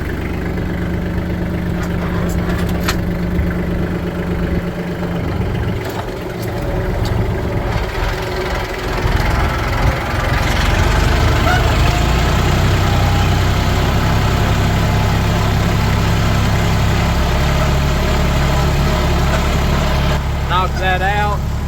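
A tractor engine idles steadily up close in a field after discing, a low rumbling drone with faint clanks and rattles throughout.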